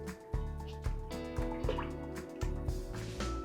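Coconut milk pours from a container into a pan on medium-high heat with a soft, steady dribble and a few glugs, close and faint, with no talking.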